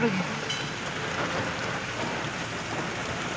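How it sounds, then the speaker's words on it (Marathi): Heavy rain with hailstones pelts the road on the Sambalpur route in Odisha, a dense, loud, constant hiss of rain and pattering impacts heard up close without pause. "पाऊस सोसाड्याचा पाऊस आलाय आणि गारा पडत आहेत जोरदार जोरदार गारा पडत आहेत"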